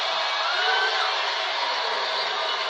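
The Miami Heat home crowd fills the arena at a basketball game, LeBron James' first return to Miami. A dense, steady roar of cheering holds at an even level throughout, with no single voice standing out.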